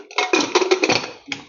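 A metal lid set onto a pot of chole with mustard oil and baking soda, giving a cluster of close, bright clanks and rattles, then a final clink after a short gap.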